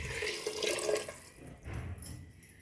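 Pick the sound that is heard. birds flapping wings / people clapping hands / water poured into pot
water poured into pot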